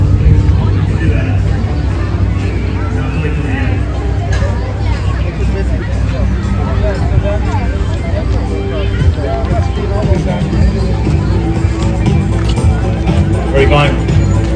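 A large crowd fills an outdoor busker festival in Port Credit, Mississauga with steady, close babble of many voices, occasional footsteps and traffic hum underneath, loud and unbroken throughout.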